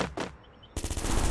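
Gunfire in a mobile shooter video game: two quick bursts of shots, a brief quieter gap, then a loud sustained rapid volley close up.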